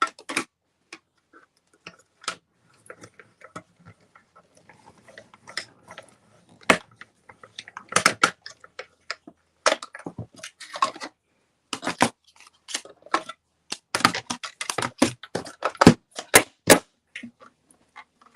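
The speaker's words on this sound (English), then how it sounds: "I'm just going to die cut from some Gorgeous Grape cardstock as well." A manual die cutting machine cranks Gorgeous Grape cardstock through its plates, giving sharp irregular ticks and clicks in quiet bursts, close and fairly faint, with busier rapid clicking toward the end.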